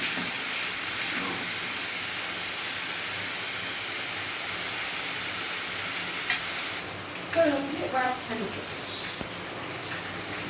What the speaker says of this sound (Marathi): आता हे दोन मिनटं आपण अजून परतून घेऊया